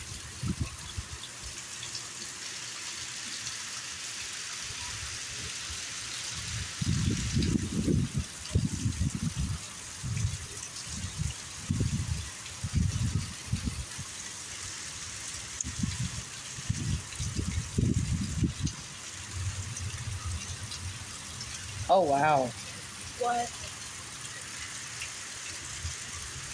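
Heavy rain pours down steadily during an explosive thunderstorm near a driveway as winds pick up, a constant hiss running the whole time. Low rumbles swell and fade in the middle, and a person exclaims briefly near the end.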